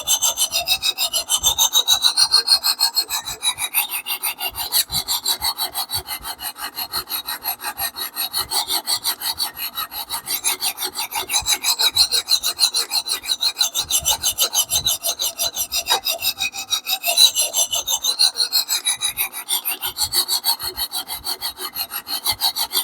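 Steady back-and-forth strokes of a Damascus steel knife blade drawn across a sharpening stone, a continuous raspy scraping that runs unbroken and close at hand with no voices over it.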